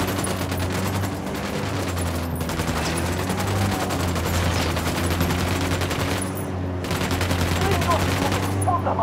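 Gunshots in the video game Tom Clancy's Ghost Recon Wildlands, a dense, sustained stream of rapid automatic fire over a low droning background, loud and steady for the whole stretch with brief lulls.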